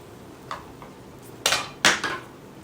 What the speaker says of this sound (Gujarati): અત્યારે હું દેશી ગોળ લઈ રહી છું અને એ એડ કરી રહી છું